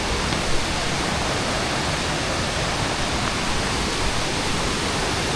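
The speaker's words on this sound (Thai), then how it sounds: "น้ำตก" A waterfall on a trail-running route at Phu Ta Jo, a constant broadband rush of falling water filling the scene evenly, close and steady with no other sounds standing out.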